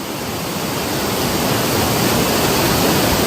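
Kianjokoma Mbuinjeru waterfall roaring continuously, a dense broadband rush of falling water, loud and close without a break.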